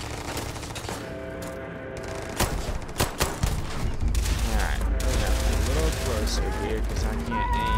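Rapid bursts of gunfire from the video game Starfield, several sharp shots clustered in the middle of the clip over a dense game soundtrack, with a voice talking throughout.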